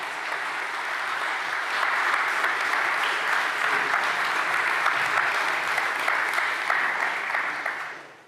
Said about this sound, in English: This is your applause, once again, please.